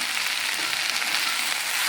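Banana flower and onion sauté in a pan with tamarind and salt, giving a close, steady, even sizzle that carries on without any talking.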